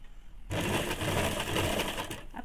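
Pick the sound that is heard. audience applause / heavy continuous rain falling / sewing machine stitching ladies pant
sewing machine stitching ladies pant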